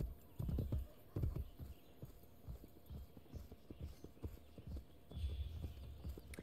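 Horse hooves clip-clop in Assassin's Creed: Brotherhood, a quick, uneven rhythm, moderately close, with faint background ambience and no talk.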